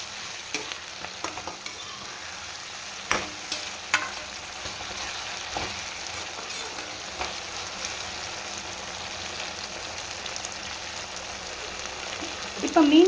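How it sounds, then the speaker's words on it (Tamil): Okra sautéing in hot oil in a pan for a spicy fish curry, a steady close sizzle with scattered stirring scrapes and clicks running throughout, alone with no voices. "இப்போ இந்த வெண்டைக்காவையும் சேர்த்து நம்ம நல்லா ஒரு வதக்கிடலாம்."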